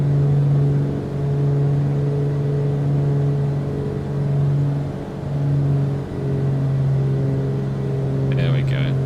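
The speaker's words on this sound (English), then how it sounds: "Nice aircraft sounds, yeah." Bush plane engine in Microsoft Flight Simulator drones steadily throughout, a loud continuous hum with slight swells and dips, climbing out after takeoff near the Congo.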